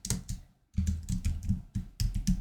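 Fingers tap out words on a computer keyboard in quick bursts of clicky keystrokes, close and fairly loud, with one short pause partway through and no voices.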